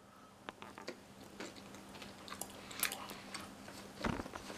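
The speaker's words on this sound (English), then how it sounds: "The last bite." Someone bites into and chews the last piece of chocolate-covered toast, making soft, close crunches and one louder bite near the end over quiet room tone.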